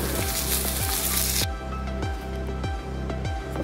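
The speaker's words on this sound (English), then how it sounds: "I'll fry all the pieces" Pomfret pieces fry in a hot pan with a loud, steady sizzle and crackle, and a brief louder spattering burst early on, heard up close without any talking.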